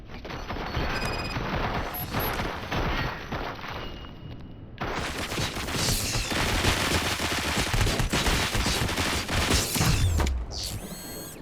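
Gunfire in the video game Robocop: Rogue City, a dense, sustained barrage of rapid mechanical shots and clattering impacts that briefly eases near the middle, then resumes at full loudness and runs to the end.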